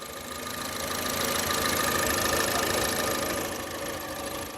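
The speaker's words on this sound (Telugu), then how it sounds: "ఇది రిలయబుల్ ఇంజిన్, ఏం చూడవసరం లేదు" A 2012 Honda Brio S with an i-VTEC petrol engine idles steadily nearby, giving a constant mechanical hum with a faint ticking running through it and no talking.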